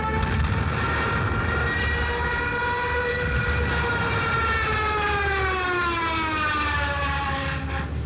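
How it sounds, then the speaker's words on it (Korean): A Stuka dive bomber's siren wails loud and continuous, its pitch sliding steadily downward over several seconds with no voices. "바람에 의해서 사이렌이 행 하고 내려오니까 연합군들이 포탄 떨어지기 전에 그 소리만 들으면 벌써 도망가고 싶은 마음이"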